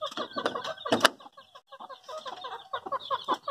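Chickens cluck and squawk inside a homemade cage built from a waste 21-inch TV box, close and loud, with bursts of overlapping calls and brief pauses between them.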